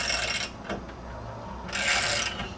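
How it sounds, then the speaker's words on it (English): Jack bolt being turned on a flange spreader tool: two short gritty metallic ratcheting bursts with a faint clink between, close and fairly quiet with no talking. "You can now begin to turn the jack bolt."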